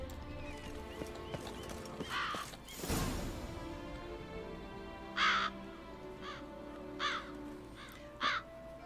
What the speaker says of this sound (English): There is a bunch of crows.